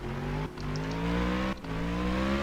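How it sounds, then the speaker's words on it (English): A fully maxed-out BMW in Roblox Vehicle Simulator accelerates hard toward top speed, its engine droning loud and steady with two brief dips in pitch like quick gear shifts. "Without nitrous, as you see, the acceleration is really great."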